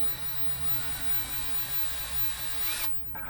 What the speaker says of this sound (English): If I'm using a drill, I'll just come up slowly, hitting the edges just like that